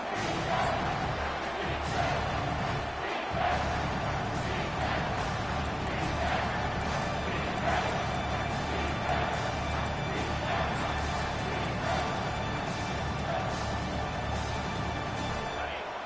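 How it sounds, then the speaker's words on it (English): A big stadium crowd at an American football game roars as the defense tries for a red zone stop, a dense, continuous wash of noise, loud and sustained, with no distinct voices standing out. "And here comes the noise. This crowd is trying to inspire this defense to make a big red zone stop."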